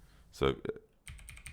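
Keys on a computer keyboard clicked in a quick run of light taps, close by, following a brief spoken word.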